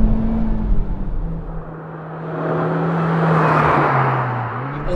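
A turbocharged car, either a 2017 Honda Civic Type R or Subaru WRX STI, revs hard on a race track near the rev limiter, a sustained engine whine that dips, then swells into a broad rushing roar with wind noise.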